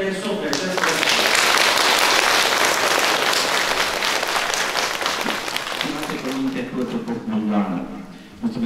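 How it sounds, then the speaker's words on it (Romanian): Applause from a church congregation at a blessing service for a new church in a Romanian village, sustained broadband clapping for about eight seconds, fading slightly near the end as a voice begins to speak over it. "Și îl aplaudăm pe părintele din suflet."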